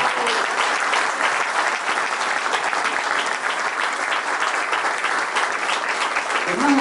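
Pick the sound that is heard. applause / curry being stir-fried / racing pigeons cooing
applause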